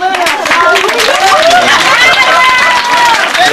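Rodeo crowd clapping and cheering at an outdoor event, a dense wash of applause and chatter with voices calling over it throughout.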